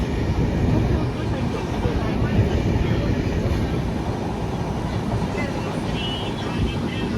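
A train rolls steadily along the rails with a dense, continuous rumble and rattle that stays loud and even throughout, with no gaps or talking.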